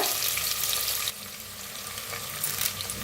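Cumin seeds, chopped onion and a pinch of asafoetida fry in hot oil, giving a bright steady sizzle that drops slightly as more goes in, then crackles on close and unbroken.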